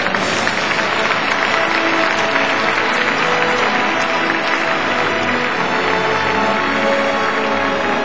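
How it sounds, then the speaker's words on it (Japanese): A large crowd at a Giants baseball fan festival applauds steadily and loudly as the manager comes on stage, dense clapping sustained throughout with faint voices mixed in. "皆さんどうぞ盛大な拍手でお迎えください。"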